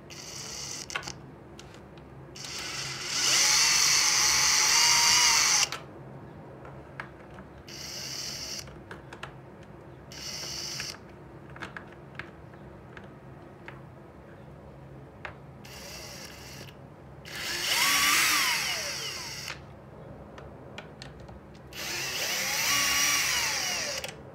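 A power tool on the back cover of a Makita XBU02 removing its screws, several loud high whirring bursts of a few seconds each separated by quieter handling and small clicks.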